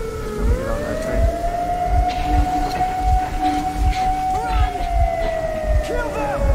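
A train in the video game Metro Exodus rumbles with rhythmic low clanks while a long, rising siren-like whistle wails over it, loud and continuous, with shouted voices in the background.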